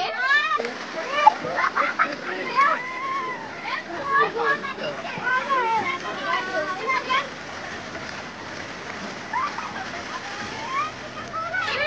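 People dive and splash in a Konkan village river, irregular watery splashes mixing with children's shouts and lively talk throughout.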